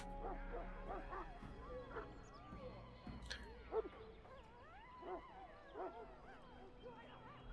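A Mabari hound barks and yelps in Dragon Age: Origins, with a run of moderately loud barks spread through a castle scene over steady game ambience and what may be voices.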